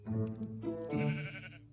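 A Minecraft sheep bleats twice in quick succession, close and clear, with no talking over it.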